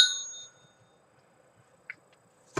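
A phone notification chime sounds during a home Christmas crafting session: a bright bell-like tone rings at the start and fades, followed later by a short ding and another brief burst near the end, all in an otherwise quiet room.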